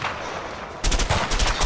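Quiet background gives way to a rapid burst of gunfire in the co-op game A Way Out, repeated sharp shots in quick succession, loud and close.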